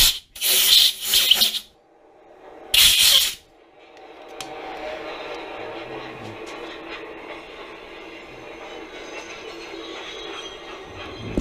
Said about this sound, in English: This train shows no sign of stopping